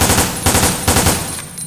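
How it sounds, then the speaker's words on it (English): Quick bursts of pistol fire from a burst-fire handgun in Resident Evil: Dead Aim, three rapid clusters of sharp shots about half a second apart, loud and close. "as you guys saw, it is burst fire, so it probably is an ammo eater"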